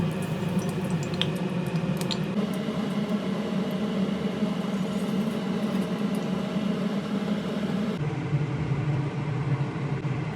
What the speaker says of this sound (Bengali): এখন এই গরম তেলে একটি শুকনো লঙ্কা দিয়ে ভেজে